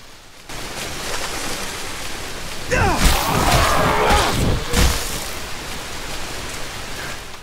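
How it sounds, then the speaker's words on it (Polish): Heavy tropical downpour in the video game Dead Island: Riptide, a dense steady hiss of rain that swells louder midway with splashing and rumbling, close and loud, no speech. "Rzęsista ta ulewa, nie ma co."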